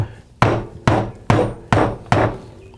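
A hammer strikes a 2-prong lathe drive center into a wooden blank, five sharp evenly spaced metallic knocks, close and loud, each ringing briefly before the next.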